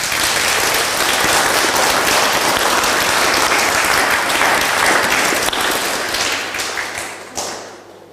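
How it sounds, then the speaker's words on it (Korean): A church congregation marking the anniversary of its founding gives loud, sustained applause that fills the sanctuary and then tapers off, with scattered claps trailing at the close. "하나님 아버지께 감사와 영광의 박수를 올려드리기를 원합니다"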